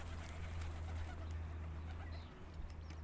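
Faint, low cooing from pigeons in a park hums steadily under a hushed open-air ambience, with a few light higher chirps and no voices.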